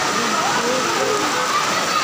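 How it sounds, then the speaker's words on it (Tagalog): Sea water rushes and sloshes across an outdoor basketball court in a steady, loud wash of flowing water, with people's voices and chatter mixed in over it. "Samot ug dako ang dagat."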